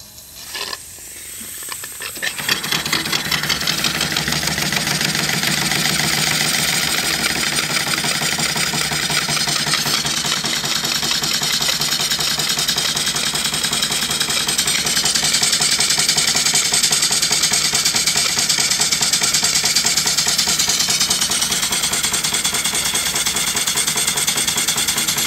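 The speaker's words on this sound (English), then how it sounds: "we're going to crack the throttle valve and run the steam engine for a few seconds" Portable steam engine starting up as the throttle valve cracks open, then running steadily with a dense, hissing, rhythmic chuff and mechanical clatter, continuous and fairly loud for about twenty seconds, no talking.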